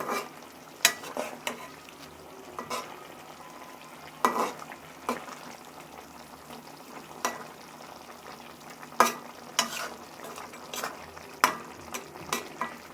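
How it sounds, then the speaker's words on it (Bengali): Small chapila river fish fry with onion stalks in a pan, a soft continuous sizzle broken by frequent sharp clicks and scrapes of stirring and turning, quiet and close with no talking. "এখন আমরা ঢেকে দিব এখন মাছগুলো আস্তে আস্তে করে উল্টিয়ে দেব"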